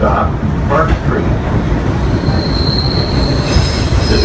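A Red Line subway train on the MBTA runs steadily with a loud rumble, and a thin high wheel squeal rises near the end and holds. A faint voice is heard briefly.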